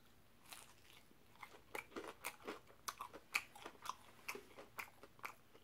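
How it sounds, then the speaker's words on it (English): Loud, close crunching bites and chewing of Long John Silver's fried fish and chips, a steady run of crisp crackling crunches with no talking. "So crunchy."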